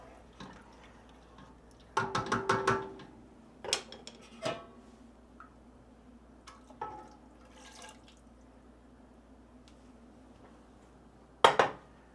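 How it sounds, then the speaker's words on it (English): A spoon scraping around the sides of a pot of chicken and andouille sausage gumbo, giving a cluster of close scraping knocks, then scattered single taps and a final sharp pair of clatters, with no talk. "And scrape the sides of the pot here."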